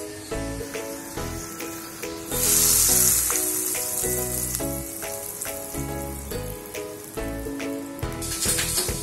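Hot tempering oil with asafoetida is poured over a mung bean curry (usal) and bursts into a loud, crackling sizzle that then settles, with steady background music playing throughout.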